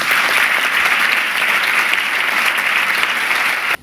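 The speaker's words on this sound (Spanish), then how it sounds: "os pido por favor un aplauso para Antonio Lucas y Antonio Gamoneda." An audience claps at the closing of a poetry festival in a Marbella theatre, a loud dense burst of applause filling the hall evenly before cutting off abruptly near the end.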